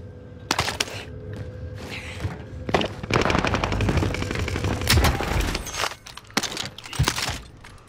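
Rapid automatic gunfire and single shots in an online first-person shooter match, loud bursts separated by brief pauses.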